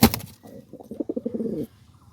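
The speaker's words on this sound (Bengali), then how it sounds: "এই পাশে খোপের বাহিরে হাত দিলেও সে পাখা ঝাপটাচ্ছে" A pigeon in its coop gives a quick burst of wing flapping, then a soft, throaty cooing run of pulses close by, fading to quiet at the end.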